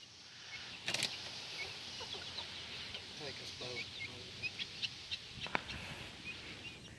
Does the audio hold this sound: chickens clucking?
yes